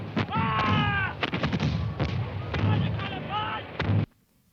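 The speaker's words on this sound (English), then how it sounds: "The rebel cannon have opened fire." Rebel cannon artillery firing at Culloden, several sharp booms spaced irregularly, loud and close, mixed with shouting voices before the sound cuts off abruptly near the end.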